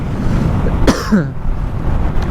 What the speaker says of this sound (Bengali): কাশি বের হয়ে গেছে ভাই